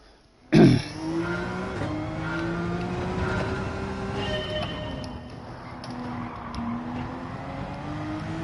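Porsche race car in the Gran Turismo 7 video game, opening with a sharp thud, then a steady engine drone whose pitch rises and falls with gear changes, loud and close throughout.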